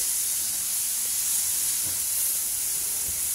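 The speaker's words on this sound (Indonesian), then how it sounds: "Ini saya tumis bumbunya di kompor sebelah itu." Spice paste sizzles in a pan as it is stir-fried on a stove, a steady hiss with faint stirring knocks and no talking.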